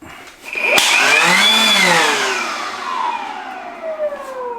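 A Ryobi RY18BLXC cordless battery air blower runs close by, its whirring whine surging up in pitch and then slowly winding down as the speed is varied.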